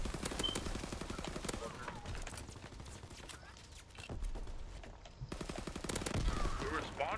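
Rapid automatic gunfire in a team deathmatch of the video game Call of Duty WWII, dense bursts of shots rattling in quick succession with a brief lull midway, then more firing.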